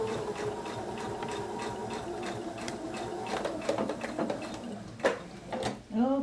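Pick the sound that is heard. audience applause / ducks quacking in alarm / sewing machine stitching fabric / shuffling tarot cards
sewing machine stitching fabric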